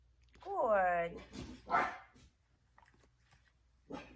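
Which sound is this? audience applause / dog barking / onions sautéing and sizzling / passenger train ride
dog barking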